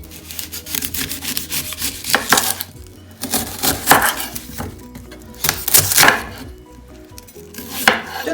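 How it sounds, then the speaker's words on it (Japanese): A knife chops onion on a cutting board while making potato oyaki: a run of sharp, close, irregular chops with short pauses between them, and no voices. "そして今度は玉ねぎを切ります。"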